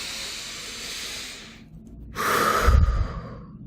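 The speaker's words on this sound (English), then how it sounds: "Take a breath." A deep breath taken slowly, a soft airy inhale followed by a fuller, breathier exhale close to the listener, with no talking.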